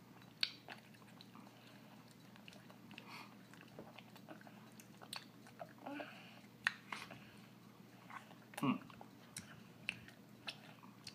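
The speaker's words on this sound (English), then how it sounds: "Okay, I'll just take a little bite." Someone takes small bites of sour candy, giving soft, sporadic crunches and wet chewing sounds close by over a quiet room, with one louder crunch near the end.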